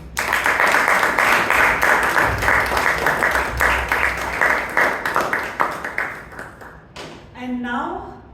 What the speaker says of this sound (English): let's have a big round of applause for our table topic master